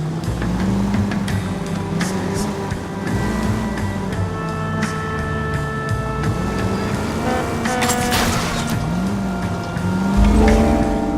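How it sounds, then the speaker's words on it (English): A car drives in the video game L.A. Noire, its engine note rising and falling as it revs through gear changes, steady and fairly loud with scattered game effects and a burst near the end. "Hit the brakes, Cole."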